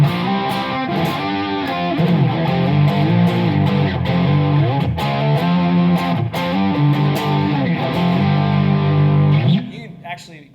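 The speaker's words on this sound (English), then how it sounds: "Actually get some pretty fat tones, you know, out of a single coil pickup if you use that fuzz in that sort of way." Fuzz-driven electric guitar through a single coil pickup on a Doubleday Starling, gain just past noon, playing a steady rock rhythm with thick sustained chords, loud and continuous before cutting off near the end.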